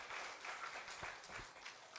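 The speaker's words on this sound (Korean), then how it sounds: "크게 박수로 격려하시기 바랍니다." A church congregation applauds during a Sunday service, the clapping steady and moderately distant for a couple of seconds with no voices over it.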